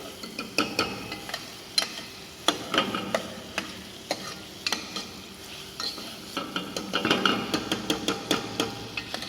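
Chicken pilaf is stirred in a pot with butter and vegetables, producing irregular metallic scrapes and knocks of a spoon against the pan over a soft sizzle, close and fairly loud.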